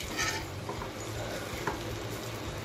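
Spices for tempering spluttering in hot oil with asafoetida, a fairly faint continuous crackle and sizzle with a few small pops, close by and without talk.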